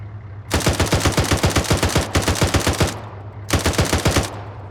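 Heavy machine gun firing from an armored vehicle during a Moroccan army exercise, loud rapid bursts in three long strings separated by short pauses, with no talk.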